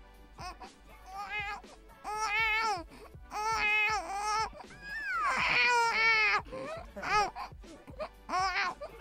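A voice imitates a newborn's cry in repeated wavering wails, loud and close, with short breaths between the cries.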